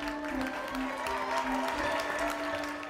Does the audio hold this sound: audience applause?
yes